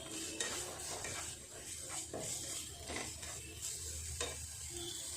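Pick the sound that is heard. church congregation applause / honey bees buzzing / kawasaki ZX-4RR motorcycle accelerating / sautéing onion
sautéing onion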